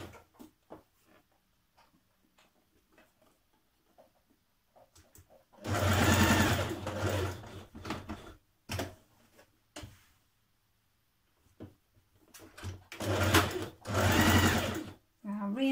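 Sewing machine stitching around the seams of a shirt dress, two loud sustained runs of rapid whirring stitches separated by quiet pauses with small clicks and handling.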